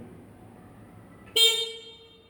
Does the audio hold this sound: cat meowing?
no